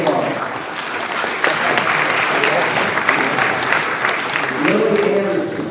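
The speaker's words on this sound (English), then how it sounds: "Feel free to applaud." A large audience at a senior awards night claps steadily for several seconds, dense and continuous, with a few voices faintly mixed in near the end.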